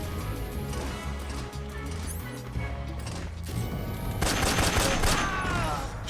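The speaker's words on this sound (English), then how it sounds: "Shooting through the fire." Gunfire in the video game Metal Gear Solid 3, heard as a steady volley of shots and crashing impacts with game music underneath, growing louder and denser toward the end.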